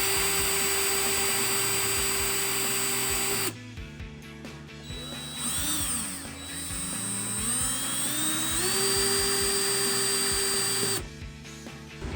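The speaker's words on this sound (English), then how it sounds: "I'm gonna be drilling the 4 marks I made with this drill. Just a plain DeWalt 20 volt max drill and using a 7/64 drill bit." A DeWalt 20 volt max cordless drill with a 7/64 bit bores holes for a Jeep Wrangler JK locking fuel door: a close, high whine ramping up and down, with a pause between two drilling bursts.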